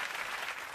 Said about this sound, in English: are they clapping because I'm leaving again?